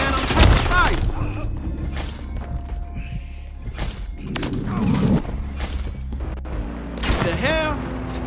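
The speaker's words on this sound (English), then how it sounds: "I'm taking fire" Gunfire fills a Black Ops 6 match, scattered shots, thumps and shattering impacts erupting in bursts across the scene, heavy and close, with a voice talking over the action.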